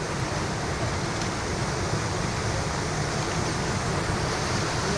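A water fountain spraying under strong pressure splashes steadily, a constant rushing hiss of falling water close by with no voices.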